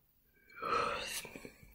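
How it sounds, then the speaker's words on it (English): A person yawns during a lecture recording, a single soft, drawn-out breathy vocal exhale that swells and fades, quiet and close. "It's so rude to yawn in front of people"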